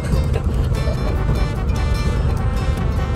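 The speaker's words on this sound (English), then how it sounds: "It's just a squeaky, loud little car." A 1969 Volkswagen Beetle drives along, its interior heavy with steady loud low engine and road rumble and light rattles throughout.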